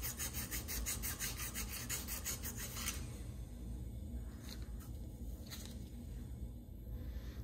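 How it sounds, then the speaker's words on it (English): A scored chainsaw cylinder is sanded by hand with 600 grit sandpaper, giving quiet, rhythmic rasping strokes that turn into softer, irregular rubbing. "as I wrap up here with the 600 grit sandpaper"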